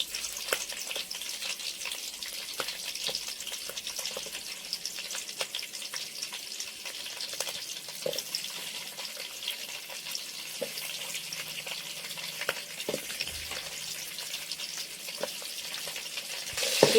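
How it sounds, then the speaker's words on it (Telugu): Green chillies frying in hot oil in a pan, a steady soft sizzle with scattered crackles and stirring clicks throughout, close and alone with no talk. "ఆయిల్లో పచ్చిమిర్చి బాగా వేయించుకోవాలి. పచ్చిమిర్చి వేగుతున్నాయి కదా"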